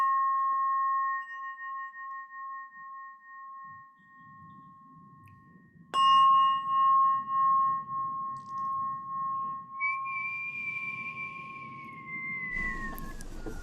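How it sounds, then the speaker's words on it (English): Burmese bell struck, first a steady ringing tone that fades, then a sharp new strike with a bright sustained ring, followed by a wavering tone and a burst of noise at the end; low murmuring sounds run underneath. "so that's a Burmese bell"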